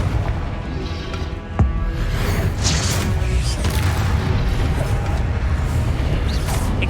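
Confringo blasting spell explosions in the video game Hogwarts Legacy: a sharp blast is followed by a dense, continuous rumble of booms and crackling combat noise that stays loud throughout.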